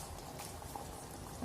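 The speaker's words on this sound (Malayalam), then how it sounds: "ഇതിപ്പോൾ നന്നായിട്ട് തിളച്ചിട്ടുണ്ട്." A Kerala-style sardine and mango curry bubbles in a pot, a soft, steady simmering patter that runs unbroken and close, with no voices over it.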